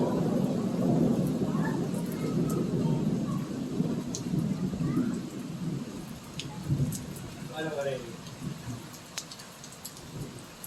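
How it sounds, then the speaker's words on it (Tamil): Heavy monsoon rain pours steadily over a suburb of Urapakkam near Chennai, with rumbles of thunder rolling through the downpour and a voice speaking intermittently over the storm. "எவ்வளோ இடி பாருங்க."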